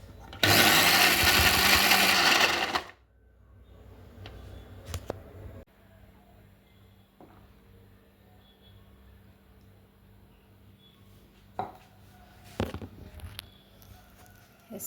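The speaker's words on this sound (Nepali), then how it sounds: "अब चाहिँ म मिक्सरमा ब्लेन्ड गर्छु।" A kitchen mixer blends mango, yogurt and ice for lassi in a loud, steady whir lasting about three seconds, then stops, leaving faint clinks and handling noises.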